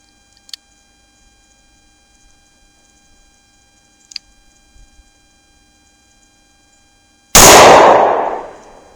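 One sharp gunshot from a .38 Special S&W Airweight revolver firing a 125-grain Buffalo Bore round cracks loudly and close near the end, after a long quiet stretch with a couple of faint clicks.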